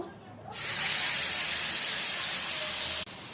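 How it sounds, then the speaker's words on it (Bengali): A paste of ginger, green chilli and tomato hits hot oil with a sudden loud hiss that holds as a steady, broad sizzle, then drops away sharply near the end. "এবারে আমরা এই তেলের মধ্যে এখানে আদা আর কাঁচা লঙ্কা, টমেটোর যে পেস্টটা করেছিলাম সেটা আমরা দিয়ে দেব।"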